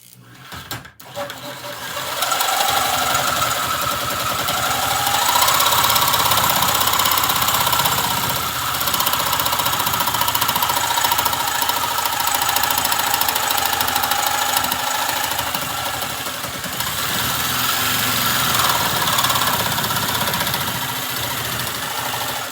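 Hychika reciprocating saw cutting a workpiece clamped in a vise, starting after a couple of clicks and then running as a continuous buzzing, rattling motor drone for about twenty seconds, close and loud with no talking.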